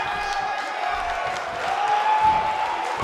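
A wrestling arena crowd in Orlando roars and cheers steadily throughout, a dense wash of voices and applause that swells slightly near the end.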